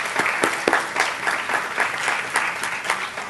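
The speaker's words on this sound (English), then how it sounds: "Please give a round of applause for all of them." An audience claps for undergraduate research students at a spring research symposium, a short burst of moderate, even applause from a modest crowd.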